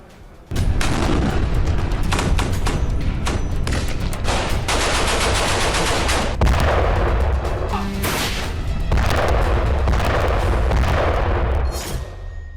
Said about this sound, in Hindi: कैसे पिछले कुछ घंटों से गाजा में बम और मिसाइल वाला गदर मचा हुआ